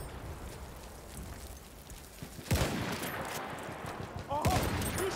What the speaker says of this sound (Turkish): Orada bir makinalı tüfek var. Makinalı tüfek, düşman.